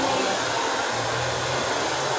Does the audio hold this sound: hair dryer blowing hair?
yes